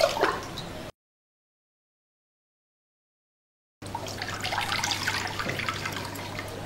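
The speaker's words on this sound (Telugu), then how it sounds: "ఇప్పుడు ఒక బౌల్ పెట్టుకొని ఇందులో వాటర్ వేసుకుంటున్నాను" Water runs and splashes into a bowl, a brief trickle at first, then a short gap, then a steady pouring stream.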